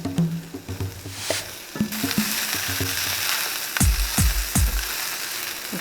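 Garlic frying in a pan alongside green beans, a continuous close sizzle punctuated by scraping and knocking of a spatula, with several heavy clunks of the pan toward the end and no talk.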